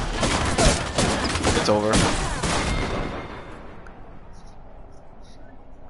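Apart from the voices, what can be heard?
gunshots from the video game Apex Legends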